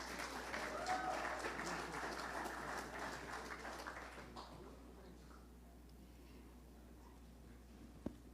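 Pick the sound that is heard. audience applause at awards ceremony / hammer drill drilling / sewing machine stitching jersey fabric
audience applause at awards ceremony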